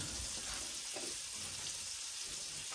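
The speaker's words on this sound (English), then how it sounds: "And my fish is still frying" Steady, crackling sizzle of striped bass frying in hot grease, close up and continuous, with no talking.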